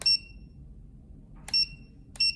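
An Emax E6 radio transmitter gives three short, high electronic beeps: one at the start, then two more close together after a pause, in a quiet room.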